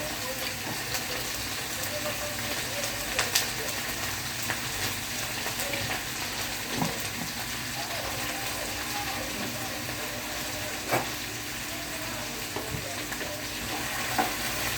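Chopped carrot and other vegetables frying in a pan for vegetable stew, a steady sizzle with occasional stirring clatter and sparse speech in the background.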